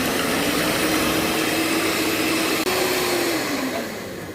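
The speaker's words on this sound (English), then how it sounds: "I will add the vanilla essence and start beating up the eggs." An electric beater whisks eggs with vanilla essence in a bowl, a steady close motor whir holding one pitch, briefly clicking partway through before tapering off at the end.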